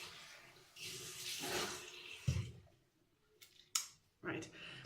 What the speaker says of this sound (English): Wash out the brush and wash your face.